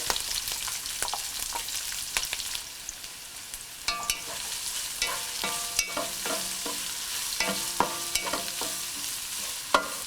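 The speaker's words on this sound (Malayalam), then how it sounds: "ഇതിലോട്ടിനി നമ്മൾ കട്ട് ചെയ്ത് വെച്ചിരിക്കുന്ന സവോള ഇട്ട് വഴറ്റുക" Chopped onion sautés in a pan with garlic and curry leaves, a steady sizzle broken by frequent metallic clinks and scrapes of a spoon stirring against the pan. Nobody speaks.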